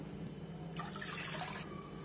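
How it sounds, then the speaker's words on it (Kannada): Water is poured from a cup into a cooking pot in a home kitchen, a faint splashing pour of about a second that starts and stops cleanly against quiet room tone. "ನಾನು ಇಲ್ಲಿ ಪಾತ್ರೆ ಇಟ್ಕೊಂಡಿದ್ದೀನಿ ಅದಕ್ಕೆ ನೀರು ಹಾಕೊಳ್ತಾ ಇದೀನಿ"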